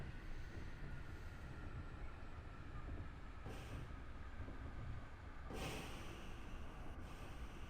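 A train passes in the Train Drive ATS video game: a quiet, continuous rail rumble and rolling clatter, broken by a few short bursts of hiss, with no talking.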